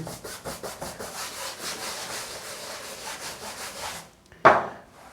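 A brush scrubs across the surface of an old canvas painting during cleaning, giving a steady rhythmic rubbing that runs for about four seconds and then ends with a brief, sharper scrape.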